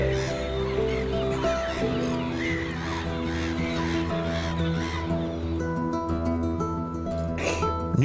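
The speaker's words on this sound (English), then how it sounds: "Where the seagulls eagerly take up position." Seagulls call over a fishing boat, their loud, harsh, repeated cries crowding together close by above a steady low engine hum.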